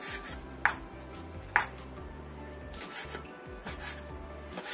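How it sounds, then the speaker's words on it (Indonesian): Knife thinly slicing raw chicken meat on a board for mie goreng, with soft rasping strokes and two sharp taps against the board, close and quiet with no voices. "Kemudian daging ayamnya kita juga iris tipis-tipis biar cepat matang."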